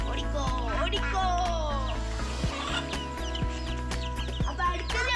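Giriraja hen clucking in a morning farmyard at feeding time, with repeated short clucks over a steady low hum and other fowl sounds close by.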